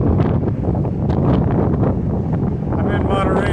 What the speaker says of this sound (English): It is very windy, but I'm just out here enjoying the wind and the nice ocean breeze.